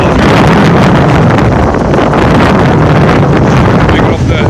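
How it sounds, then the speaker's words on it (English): Strong wind on Glastenbury Mountain on a rainy day roars into the microphone as a loud, continuous buffeting that fills the whole clip. "the wind, you can see the wind is just blowing all over the place"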